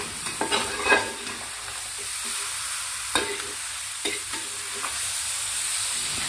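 Duck curry being stirred as it fries in a pan, a soft continuous sizzle broken by scattered scraping stirs and clinks of the spoon, close and without talk.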